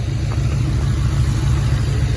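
Steady low exhaust drone from a Crown Victoria with a loud aftermarket exhaust, a continuous deep rumble heard from inside the car while driving, with no talking.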